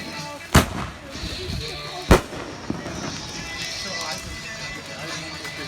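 Illegal fireworks go off outdoors: two sharp, loud bangs about a second and a half apart, plus a fainter pop, while people talk and react throughout.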